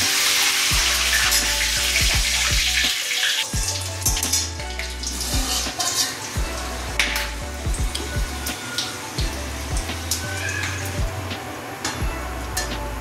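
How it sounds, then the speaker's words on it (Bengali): Bay leaf, cumin seeds, cinnamon, cloves and small cardamom crackle and sizzle loudly in hot oil in a Bengali kitchen, a steady close frying hiss with repeated spattering pops and no speech. "এবার তেজপাতা, সাদা জিরে, গোটা গরম মশলার মধ্যে দারচিনি, দুটো লবঙ্গ, দুটো ছোট এলাচ ফোড়নে দিয়ে দিলাম"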